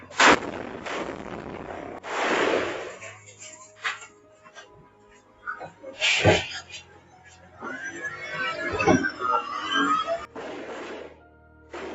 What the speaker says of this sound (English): The moment a rocket-propelled grenade or RPG was thrown in an attempt to kill a mayor in the Philippines